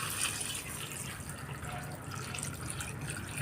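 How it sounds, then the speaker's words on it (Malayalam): Water running steadily from a tap, poured over cut jackfruit in a home kitchen: a continuous close splashing wash of flowing water with no speech. "ഇനി ഇതിലേക്ക് വെള്ളം ഒഴിച്ച് വെക്കണം"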